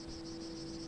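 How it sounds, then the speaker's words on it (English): Cicadas drone in a video game world, a steady buzzing insect chorus heard faintly on its own for under a second. "Cicada!"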